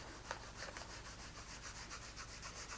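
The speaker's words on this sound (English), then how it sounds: "I'm going to take my squeegee." A squeegee rubs a large vinyl wall graphic onto a wall in quiet, rhythmic strokes, a faint steady scraping with no voices.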